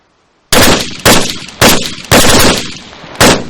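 Loud, close gunshots from a weapon in the IFA3WarMod for Arma 3, five separate heavy reports spaced about half a second apart, each trailing a short echoing decay, with silence before the first.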